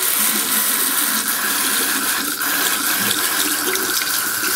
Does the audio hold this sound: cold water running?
yes